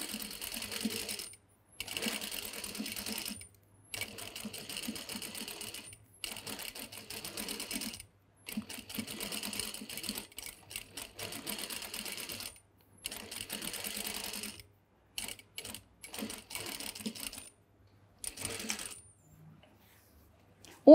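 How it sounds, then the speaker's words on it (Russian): A sewing machine stitching along the edge of fabric binding, running in bursts of steady rapid mechanical chatter separated by short pauses, close and without talk. "Аккуратненько шьем по краешку бечки."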